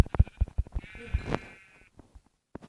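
Several short sheep bleats from a Minecraft-style game, close and clear, with one longer drawn-out bleat in the middle and brief pauses between calls.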